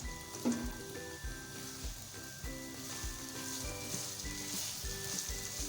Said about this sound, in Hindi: अब हम प्याज को अच्छे से फ्राई करेंगे।